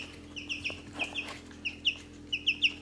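High, repeated chicken clucks and chirpy calls come in quick clusters over a low steady hum, nearby and fairly clear.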